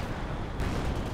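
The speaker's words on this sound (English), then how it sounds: "What determines whether the arty is airburst or not?" An artillery barrage in Company of Heroes 2, with dense, continuous rumbling blasts and crackle that form a loud, unbroken wash and swell slightly partway through.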